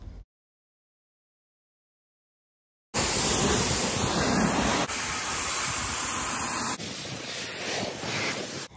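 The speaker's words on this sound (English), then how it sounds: "I can just go ahead and spray the product on" After a brief silence, a continuous loud hissing spray of degreaser onto car paint runs for several seconds, briefly shifting in tone as it continues.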